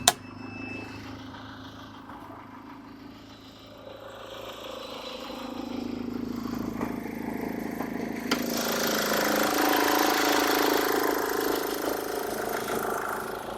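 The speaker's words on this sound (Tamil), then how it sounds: "வண்டியோட இன்ஜின் நம்ம ஸ்டார்ட் பண்ணிட்டோம்." The 2012 Force One seven-seater diesel idles with a steady low engine hum right after starting, growing slightly louder and rougher partway through and holding at a moderate, close level.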